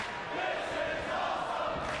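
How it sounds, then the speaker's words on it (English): A wrestling crowd at TNA Lockdown 2007 roars in a dense, continuous wash of chanting voices, filling a large arena. "Listen to the crowd chant, this is awesome."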